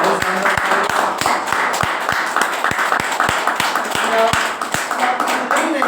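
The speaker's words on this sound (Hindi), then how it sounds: "मैं चाहूंगा कि किजारा के लिए जोरदार तालियां बजाएं।" An audience claps at a Kizzara Ayurvedic product event, a loud run of evenly spaced, sharp claps close by, with speech partly beneath them.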